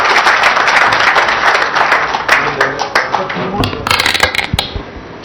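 An audience at a Telangana government launch event claps together in a dense burst of applause, which thins into scattered claps toward the end, with crowd murmur underneath.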